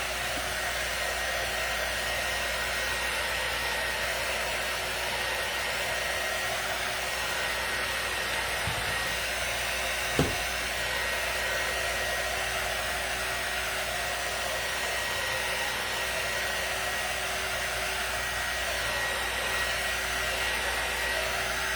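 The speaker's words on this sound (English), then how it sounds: "So this is a heat gun drying tool." A heat gun drying tool blows hot air in a loud, steady whooshing roar that holds without break for over twenty seconds, with only a single faint click partway through and no voices.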